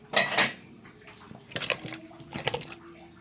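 Vegetables drop into a pot of Filipino nilagang baka, beef stew fresh from a pressure cooker, giving a few clattering knocks and splashy metallic clinks in short bursts, close by.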